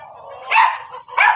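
A dog gives two sharp, loud barks close by, about half a second apart, barking at a chicken.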